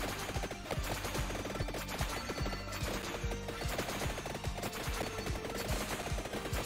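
Pistols fire nonstop in the video game Vampire Survivors, a dense rapid rattle of small shots repeating in a steady rhythm, moderately loud and with no voices over it.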